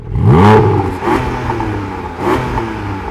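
A Porsche Boxster Spyder's naturally aspirated flat-six engine revs hard twice, a smooth rising howl that drops back each time, loud and close with no talking.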